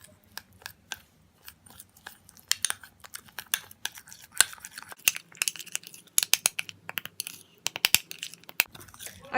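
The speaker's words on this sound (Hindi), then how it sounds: "इन सब चीज़ों को मिक्स कर लेंगे" A spoon mixes face pack ingredients with rose water in a bowl, giving quick irregular clicks, taps and scrapes against the bowl that grow busier as the stirring speeds up.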